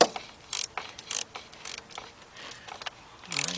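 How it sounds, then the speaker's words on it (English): A 3/8-inch drive ratchet turns a 10mm shallow socket on a nut during a 1998-2005 Volkswagen fuel pump job, giving short bursts of close, crisp clicking in irregular strokes. "you're going to take your 10mm shallow. I'm using a 3/8 drive. And then you're going to tighten up that nut right there."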